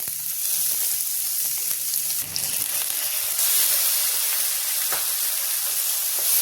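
Finely chopped medium onions fry in hot oil with cumin and asafoetida, giving a continuous close sizzle with bright hissing spits. The sizzle swells partway through and one brief clack sounds near the end; no one speaks.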